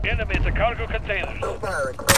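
Gunfire in a Call of Duty: Modern Warfare capture-the-flag match around a shipping-container area: booming shots rumble under a voice, ending in a sharp, loud burst.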